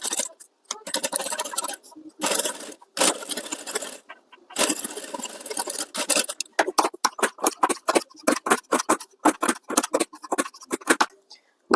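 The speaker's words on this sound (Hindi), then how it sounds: "आई मीन बुकरम की कॉर्नर पे सिलाई लगानी है।" A sewing machine stitches a shawl collar along the buckram corner in rapid close bursts, running in longer stretches at first and then in short stop-start runs separated by brief silences.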